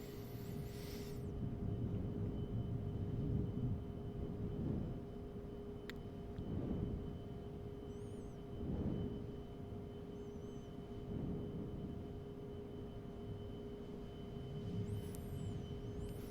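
Cirrus SR-22 single-engine propeller plane in simulated flight in X-Plane 11, a steady low engine drone with a constant tone and soft periodic swells, without talk.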